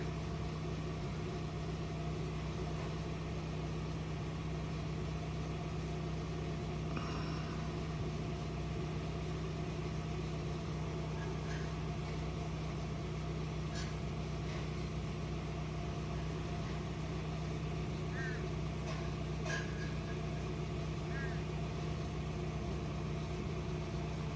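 A Honda Fit engine idles steadily in the cold while warming up, a constant low hum with faint ticks and no one speaking.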